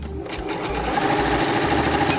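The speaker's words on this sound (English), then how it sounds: "we're going to sew right here and right here" A sewing machine runs a fast, steady stitch along a folded fabric edge on a drawstring bag, humming close and continuous for about two seconds.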